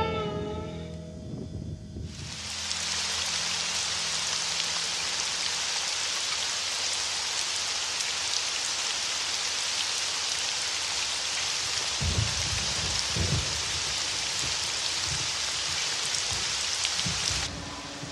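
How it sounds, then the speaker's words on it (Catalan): Steady rain on a dreary day starts abruptly after a couple of seconds of other sound, then falls as a loud, even hiss with a few low thuds, continuing until it cuts off near the end. "Avui fa un dia fastigós, d'aquests de pluja, que no ve gens de gust sortir al carrer."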